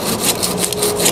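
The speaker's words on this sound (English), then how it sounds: "I'm using my old dovetail saw because this epoxy really" An old dovetail saw cuts through hardened epoxy in a steady back-and-forth rasp, each stroke loud, close and gritty, with no one speaking.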